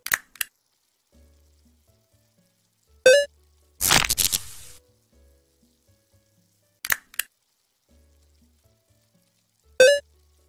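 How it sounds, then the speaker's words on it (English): Hot frying oil sizzling in the horror game Potato Thriller, heard as a single short crackling burst of about a second, surrounded by scattered brief clicks and quiet gaps. "That's frying oil. Like the kind they use at fast food places."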